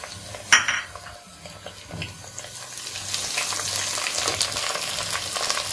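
Green chillies added to lightly fried onions in a pan for a goose meat bhuna, a steady sizzle with scraping stirs and clinks of a utensil against the pan, rising in intensity toward the end.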